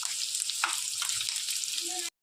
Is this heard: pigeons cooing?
no